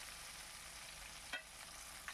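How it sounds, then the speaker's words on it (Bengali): A steady, soft hiss of potatoes frying in a pan, with a couple of brief scraping sounds as they are stirred. "দেখুন আমি আলুগুলোকে ভালো করে বেশ নাড়িয়ে চাড়িয়ে নিচ্ছি"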